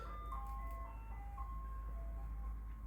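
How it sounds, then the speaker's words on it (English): An ice cream truck out in the street plays its tinkling, melodic chime tune, moderately distant and steady over a low rumbling hum, with no voices. "y'all hear that ice cream truck?"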